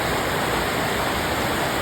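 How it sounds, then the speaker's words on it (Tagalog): Sudden rain pours down in a dense, steady hiss that fills the scene evenly and loudly from start to finish, with no voices over it. "Pagtapos magakot ni Coach Mab, biglang umulan!"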